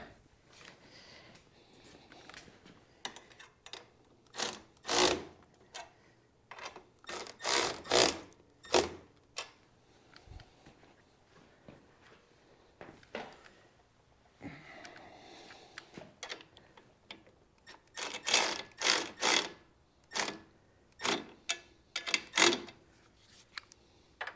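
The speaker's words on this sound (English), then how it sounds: "now let's tighten these suckers down" A ratchet tightening bolts on the windshield bushings of a Harley motorcycle, with bursts of rapid clicking in several runs separated by pauses, close by and alone.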